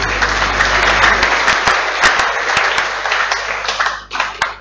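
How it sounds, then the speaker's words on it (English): An audience at a school anniversary service applauds and claps for a guest, dense clapping that thins toward the end into a few scattered, sharper claps, with a low hum underneath. "Let's clap for him."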